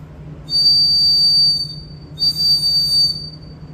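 Two sustained shrill toy whistle blasts, each about a second long with a brief pause between, loud and close over a low background hum.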